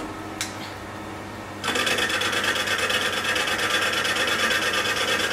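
A cutter takes a light clean-up pass to form a radius on a chucked 1905 Hornsby engine part; after a quiet moment with a small tap, a steady, close, rasping cut starts and continues evenly to the end.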